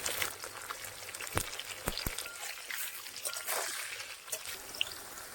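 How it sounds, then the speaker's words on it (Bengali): Potato pieces frying in hot oil, heard as a steady, fairly quiet crackling hiss with scattered sharp pops and spatters throughout. "তেল গরম হয়ে গেছে, আলু দিয়ে দিলাম"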